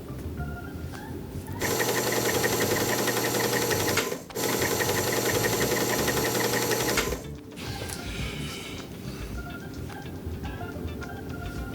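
A Singer Featherweight sewing machine stitches two quilt pieces together, its rapid mechanical whir running loud and steady in two bursts with a short pause between, then stopping and leaving quiet handling noises.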